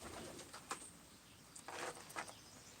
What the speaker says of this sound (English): Bird, you shouldn't be on the table